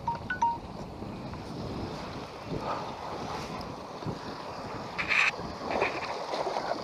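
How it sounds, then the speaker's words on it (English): Strong wind roars across open water around a boat during a catfish fishing trip, buffeting the microphone with steady broadband rumble and louder gusts, with no talk. "I do apologize for this wind, fellas."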